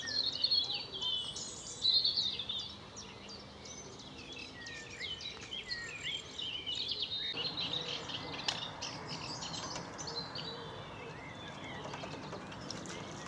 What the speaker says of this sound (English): sedge warblers are present. As you can hear.